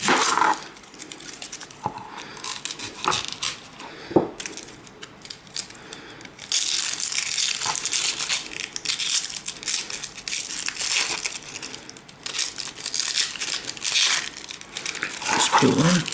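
Onions for beef goulash are peeled by hand, dry papery skins crinkling and crackling up close in irregular bursts, with a few sharper snaps, growing denser and more continuous in the second half.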